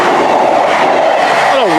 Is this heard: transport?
yes